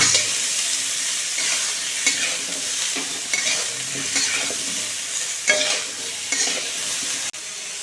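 Drumstick vegetable curry being stirred in a pan after salt goes in, loud continuous frying hiss with repeated scraping strokes of a spoon close by, no talking.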